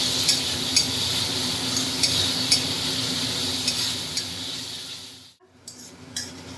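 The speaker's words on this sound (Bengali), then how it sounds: "ভাজা ভাজা হয়ে গেছে মানে কষানো হয়ে গেছে" Chopped tomato fries in a pan for tarka dal while a utensil stirs it, giving a close, steady sizzle with regular scraping strokes and a brief gap near the end.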